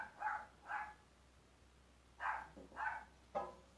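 A dog barks five times in sharp, moderately loud bursts: two close together, a pause, then three more in quick succession, with no talking over them.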